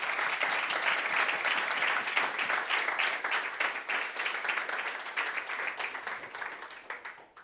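Steady, dense applause fills a conference hall after a talk on the studio stage of the Neos Conference 2024. The clapping is sustained and close, then gradually thins and fades toward the end.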